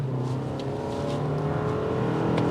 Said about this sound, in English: It does have a really loud exhaust note.